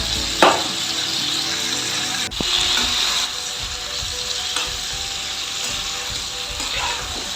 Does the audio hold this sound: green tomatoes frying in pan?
yes